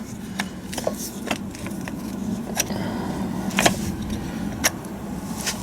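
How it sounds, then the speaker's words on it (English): Gears are slid by hand onto the shaft of a Land Rover Defender TD5 R380 gearbox during an overhaul, giving scattered close metallic clicks and clinks over a steady low workshop hum. "hopefully I can slide all this gear on in one"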